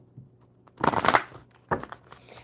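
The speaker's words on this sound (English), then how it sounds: "So I'm going to shuffle the enchanted maps for James" A deck of enchanted-map oracle cards is shuffled by hand in a few quick riffling bursts, close and moderately loud, with no talking.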